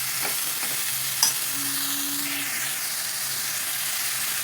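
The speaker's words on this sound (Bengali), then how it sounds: "ভালো করে কষিয়ে নেব।" Pumpkin greens and lentils stir-fried with cumin powder and salt for a Bengali chorchori, giving a steady close sizzling hiss with a few soft stirring scrapes and a brief clink, no talk.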